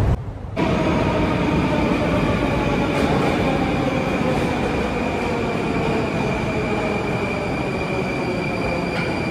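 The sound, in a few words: metro train in a Russian subway station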